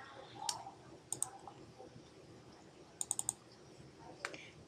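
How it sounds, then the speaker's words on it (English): Sharp computer mouse clicks while importing an ExamView test file into Blackboard, a single click followed by short bursts of two to four quick clicks, close and fairly quiet, with no talking. "All right, so now I'll just click import test."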